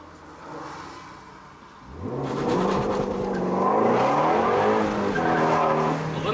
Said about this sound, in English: A little bit of wheel hop.